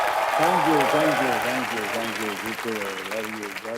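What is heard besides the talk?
audience applause for Dharmendra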